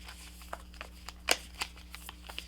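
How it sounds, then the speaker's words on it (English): Tarot cards being shuffled by hand, scattered soft flicks and slides with one quick louder riffle, close up and quiet. "It's so darn hard to shuffle, but I love this deck."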